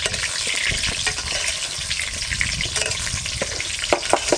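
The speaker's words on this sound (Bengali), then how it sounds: "আলু ভাজছো নাকি" Four pieces of potato fry in hot oil with a loud, continuous sizzle close by, punctuated by scattered pops and the scrape of stirring.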